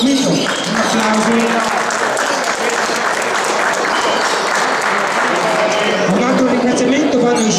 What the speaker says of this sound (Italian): Bravo Guido, un applauso.